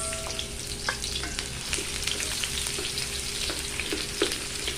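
Onion tossed into ginger already frying in a pan for mussel curry sizzles steadily, with occasional clicks and scrapes of stirring over the constant hiss, close and moderately loud.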